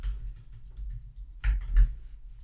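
Typing on a computer keyboard, a run of quick soft key taps followed by a couple of louder clacks, close and alone in a quiet room.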